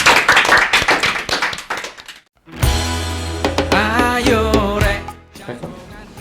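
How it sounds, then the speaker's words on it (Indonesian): Clapping for the mayor of Bengkulu opens with a burst of sharp, close hand claps, then cuts to a brief silence followed by a musical jingle with a voice. "Tepuk tangan untuk Wali Kota Bengkulu."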